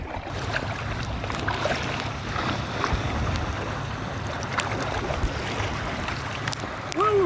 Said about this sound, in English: It's not as hard as you think it is rowing these things, you know.